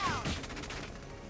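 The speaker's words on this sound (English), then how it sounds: "This is the enemy returning fire." Enemy gunfire in Valkyria Chronicles 4, a short burst of rifle shots and impacts with a brief whistling tone at the start.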